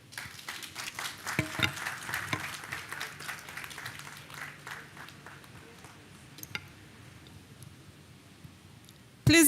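Applause at a commissioning ceremony for NNPC CNG stations, a dense patter of clapping that gradually thins and fades. A sharp louder noise cuts in at the very end.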